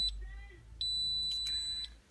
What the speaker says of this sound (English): So, beeps 3 times, then it's done